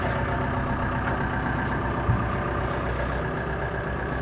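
A pocket bike engine idling: a steady, buzzing engine hum held at a constant level, close by, with one brief knock midway.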